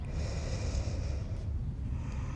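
A close, breathy exhale during a spine mobility workout, pushed out steadily through the nose and fading near the end, with no talking.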